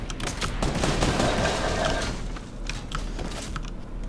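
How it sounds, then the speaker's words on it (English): Gunfire in a battle royale video game, heard as rapid bursts of distant automatic shots crackling over a low, steady background rumble. "Who's shooting?"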